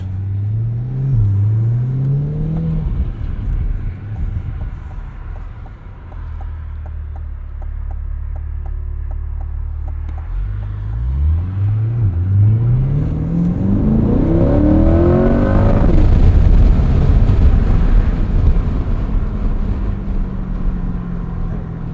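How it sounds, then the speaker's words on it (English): A 2025 Chevrolet Corvette Stingray 3LT engine, heard with the roof off, hums and revs through rising and falling gear sweeps, growing into a louder, rumbling acceleration with road noise underneath. "See if we can listen to this Corvette a little bit with the"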